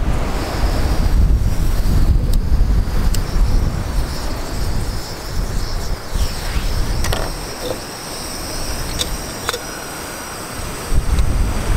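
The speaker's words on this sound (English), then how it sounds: "So our propane stove will be easier to light up even in these windy conditions." Strong wind buffeting outdoors, a constant rushing roar with gusts rising and falling, plus a few faint creaks and clicks.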